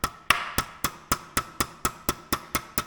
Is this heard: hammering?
yes